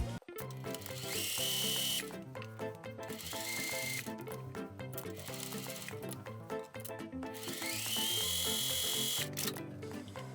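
A sewing machine topstitches the fabric of a simple handmade top in quick bursts of fast, even mechanical whirring, quiet and close, with short pauses between runs.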